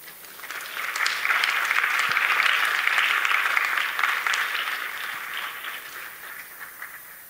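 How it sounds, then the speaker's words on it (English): Applause from a seminar audience for two speakers after a talk about missiles in Oklahoma: a full, sustained round of many hands clapping, rising quickly, holding steady, then slowly fading out. "let's have one more round of applause for Mr. Dobbs and Mr. Brewer for excellent presentation"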